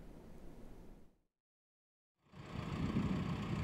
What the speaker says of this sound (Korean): 트랙터가 천천히 주행선을 따라 움직입니다.